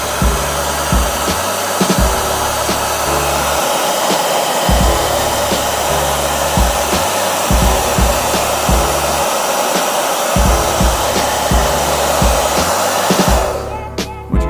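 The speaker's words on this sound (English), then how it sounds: "Okay, so I've got the hairdryer. We're going to turn this on." A handheld hairdryer blows loud and steady for the whole stretch, with a constant airy roar and a faint low rumble that pulses underneath, then cuts off at the very end.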